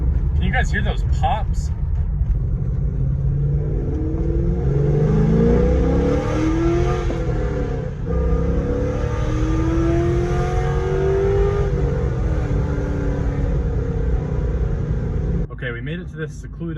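A C5 Corvette with long tube headers drones loudly as the engine sweeps up and down through the revs, with crackly exhaust pops during deceleration, and a voice speaking at the end.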